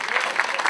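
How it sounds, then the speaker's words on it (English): A short burst of audience applause for Andrew at a Grandmasters event in Los Gatos, dense and steady clapping that fills the whole moment without any voice over it. "Let's give a big round of applause for Andrew"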